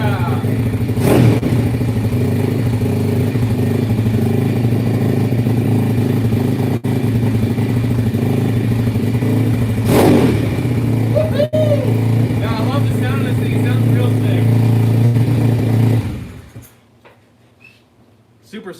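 A 150cc engine-swapped RFZ dirt bike idles and revs loudly up close, throttle blips rising and falling, then cuts off abruptly near the end.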